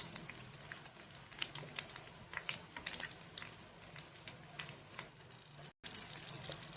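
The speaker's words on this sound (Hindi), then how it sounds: "अब एक एक करके पापलेट को पैन में अरेंज कर देंगे और दोनों साइड से क्रिस्पी होने" Pomfret fish with curry leaves fry in hot oil in a pan, a quiet, steady crackle and sizzle with scattered pops; the sound cuts out briefly near the end, then resumes.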